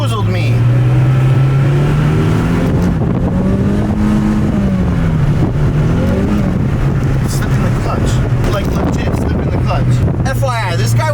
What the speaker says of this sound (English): I haven't driven a car with the clutch in a long time.